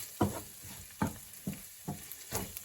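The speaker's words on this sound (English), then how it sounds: "So here's my beef cooking away nicely." Ground beef frying in a pan on the stove, a constant hiss of sizzling broken by five evenly spaced scraping stirs, close and fairly quiet.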